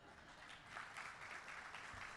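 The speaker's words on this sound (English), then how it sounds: "Feel free to applaud if you would like to, it's fine." Faint, distant applause from an audience at a banking hall of fame gala honoring the chief justice of the Texas Supreme Court, a soft continuous patter of clapping.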